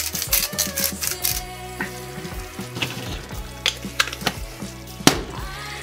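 Sri Lankan chicken curry (kukul mas) being stirred in a pan: bursts of frying sizzle and crackle with repeated scraping strokes of the spoon, close and clear, with no voices.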